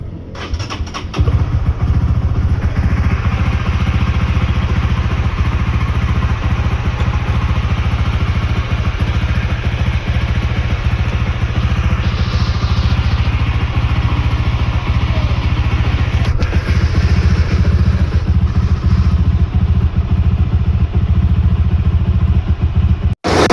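Honda Winner X 150 motorcycle starting and then idling steadily with a loud, close, even engine rumble and light mechanical clatter throughout, no talk over it.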